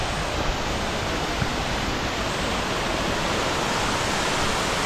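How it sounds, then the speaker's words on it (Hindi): A waterfall in the Valley of Flowers, fed by meltwater from nearby glaciers, pours with a loud, steady broadband rush that stays even throughout, with no voices over it. "और ये वाटरफॉल"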